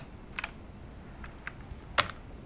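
A handful of separate key presses on a computer keyboard, close and crisp, with short quiet gaps between the clicks and no talking.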